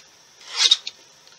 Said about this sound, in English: So just use your trimmer.